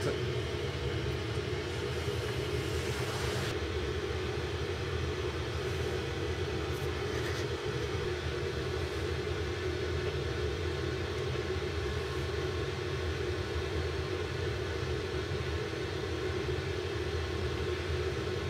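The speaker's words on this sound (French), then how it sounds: "Notre avion commence maintenant sa descente." Deep, steady airliner cabin rumble with a constant engine and airflow roar during the descent into Palermo, loud and unbroken throughout with no voices.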